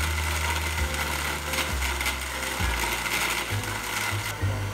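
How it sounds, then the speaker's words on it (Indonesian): A kitchen blender whirs through mango coffee drink ingredients, its motor steady with a few shifts in pitch as the load changes, no voices. "selanjutnya kita blender semuanya sampai halus"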